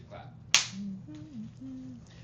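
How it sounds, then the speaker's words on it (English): A single sharp hand clap cracks out close and loud, with murmured voices faintly around it. "Get ready to clap."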